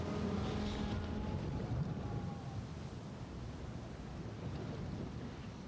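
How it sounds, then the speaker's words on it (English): A battleship sinks beneath the waves in the naval video game Ultimate Admiral: Dreadnoughts, heard as a steady low rumble of churning water and groaning hull, continuous and moderately loud throughout. "Battleship is slipping beneath the waves."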